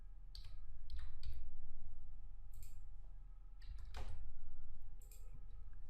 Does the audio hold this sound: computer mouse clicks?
yes